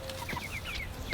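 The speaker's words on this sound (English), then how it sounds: "Escape, Chicken Little!" A chicken clucks in a short run of quick, high, nasal calls, fairly close, against steady low outdoor noise.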